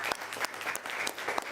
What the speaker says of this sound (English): yeah, a round of applause, yes.